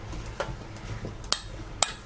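A spoon stirring a cinnamon mixture in a bowl, with a few sharp clinks against the side among soft scraping, close and fairly quiet, no talking.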